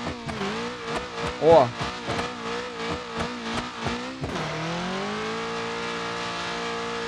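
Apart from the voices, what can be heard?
Passat turbo engine accelerating while towing a van, BeamNG.drive video game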